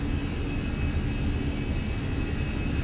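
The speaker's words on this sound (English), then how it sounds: "Stabilize, takeoff power set." Jet airliner engines roar at takeoff power on the runway, a loud, steady broadband rumble with a faint high whine running throughout, and no voices.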